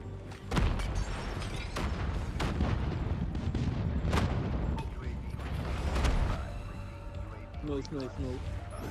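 Airstrike explosions land in ranked multiplayer of the mobile shooter Call of Duty Mobile, a loud dense run of booms and gunfire with rumbling impacts, and voices are heard over the combat.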